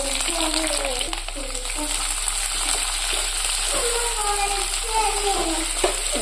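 Fennel seeds and sliced onion fry in hot oil in a pan for a restaurant-style mackerel chilli curry, a steady close sizzle with a voice talking over it.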